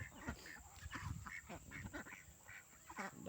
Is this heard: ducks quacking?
yes